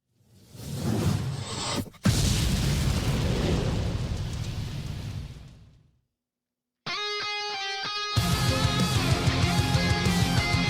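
Booming cinematic intro for the Napalm Records label: a deep rumbling blast swells and fades into silence, then a loud orchestral-style hit with tonal layers and pounding low booms takes over, with no voices.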